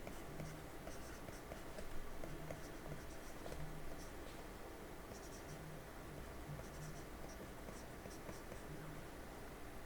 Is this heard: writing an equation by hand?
yes